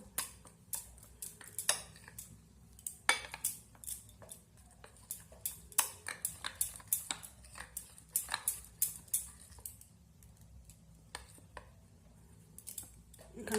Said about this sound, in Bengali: আরও কিছুক্ষণ আমি এইভাবে সুজিটাকে ফেটিয়ে নেবো